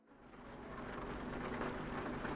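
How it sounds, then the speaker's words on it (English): Steady rain hiss in a Volvo driving simulator video game on a dark road with an S60, rising softly to a constant wash and fairly quiet throughout. "I like the rain."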